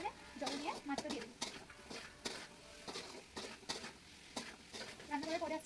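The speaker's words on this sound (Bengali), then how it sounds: "মশলাটা কষাচ্ছি, একটু তেল ছেড়ে যাবে, তারপর আলুটা দিচ্ছি" Spices sizzle in oil in a home kitchen pan while potatoes are added, with repeated scraping and stirring clatters of a utensil against the pan and a voice talking intermittently.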